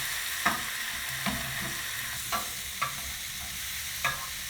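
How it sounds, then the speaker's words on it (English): Mushrooms simmer with sherry and thyme in a pan, giving a steady hiss of cooking liquid broken by a handful of spaced scrapes and clicks as a utensil stirs, close up and without speech. "Stir that in and let it cook down"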